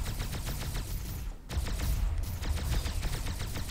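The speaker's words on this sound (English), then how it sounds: "A heavy weapon." Rapid bursts of heavy weapon fire in the space combat game Starpoint Gemini 2, a dense crackling volley with a brief gap near the middle, loud and steady throughout.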